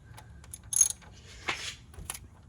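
A ratchet clicks and works to break loose a 17 mm bolt on the power steering pump of an NC Miata, with a few sharp metallic clicks and a louder grinding burst in the middle, close and otherwise quiet.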